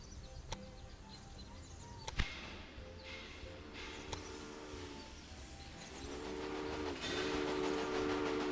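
Steam-era passenger train rolling through the Railway Empire strategy game, a steady rumble of wheels and rail clatter with a few sharp clanks, rising to a fuller, louder run near the end; no one talks.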